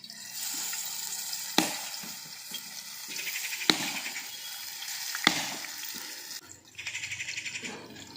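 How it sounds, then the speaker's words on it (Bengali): Paneer tikka pieces frying in hot white oil in a pan over a village clay stove, a steady sizzle broken by three sharp clicks as pieces are set down. "দিয়ে দিচ্ছি সাদা তেল, গরম হয়ে গেছে, এরপর আমি একটা একটা করে প্যানের মধ্যে দিয়ে দিচ্ছি"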